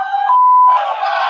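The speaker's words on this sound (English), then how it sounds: "As you can hear the chants from the crowd" A large crowd chants 'Let's go Brandon' in a loud, continuous roar, following a short steady electronic beep at the start; no one speaks.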